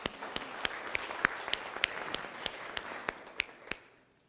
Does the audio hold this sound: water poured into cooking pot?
no